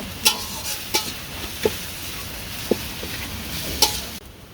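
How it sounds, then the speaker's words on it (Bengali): Ginger and garlic paste fries in oil under a soft steady sizzle, punctuated by five or six sharp spoon taps and scrapes against the pan before the sound drops away at the end. "রসুন বাটা আর আদা বাটা ভাজি ভেজে হয়ে গেছে"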